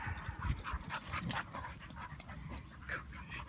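Two puppies whimper, yip and give short barks in quick, uneven bursts. The sound is faint and a little distant, with no talk over it.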